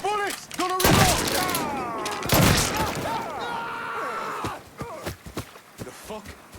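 Gunfire in the video game Mafia III comes in loud bursts early on, followed by scattered shots and thuds. Shouting voices and in-game speech run over and between the shots.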